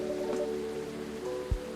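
Steady, soft rain ambience from the video game Coffee Talk, a faint continuous patter with a brief low thud near the end.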